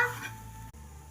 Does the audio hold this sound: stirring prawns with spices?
yes